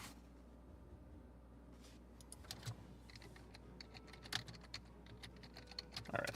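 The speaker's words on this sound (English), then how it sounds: "I'm typing." Fingers type on a computer keyboard, with quiet irregular clicks and taps that grow more frequent and louder toward the end, close and faint in a quiet room.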